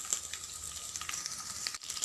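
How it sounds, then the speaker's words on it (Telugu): Crushed garlic cloves hit hot oil for a tempering, giving a steady, close crackling sizzle with faint popping throughout and no talk. "వెల్లుల్లి ఒక 7-8 రెబ్బలు కొంచెం క్రష్ చేసి వేసుకోండి."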